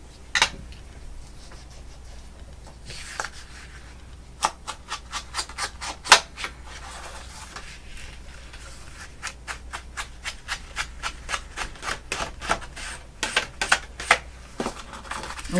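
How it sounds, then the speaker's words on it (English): Ink pad dabbed and rubbed onto craft paper for a junk journal, a run of quick tapping and dry scuffing strokes, close and clear, building into rapid rhythmic dabs near the end. "we're going to ink the craft paper so we don't forget"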